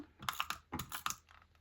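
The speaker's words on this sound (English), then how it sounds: "So I'm just going to put some tape right there." Adhesive tape pulled and pressed down onto a page, a quick run of close crackling, ripping sounds in two bursts, then a fainter rustle as it settles.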